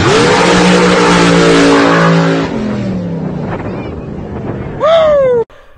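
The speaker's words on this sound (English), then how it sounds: "Watch this, and you can see what an airboat can do from 0 to 60." An airboat roars hard from a standstill, its engine note climbing in loud rising harmonics before dropping away, then a second sharp rising whine surges up near the end and cuts off abruptly, with wind noise throughout.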